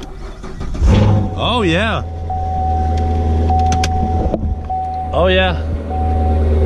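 A wrecked Mustang with an aftermarket exhaust starts up and runs at auction with a loud, steady low drone close by. Brief rising and falling tonal sweeps cut in twice, and a person speaks over the running engine.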